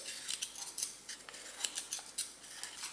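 Potatoes being peeled for a Spanish omelette, giving a quick series of crisp, scraping strokes at close range, roughly a dozen in three seconds with an irregular rhythm, with no talk over them.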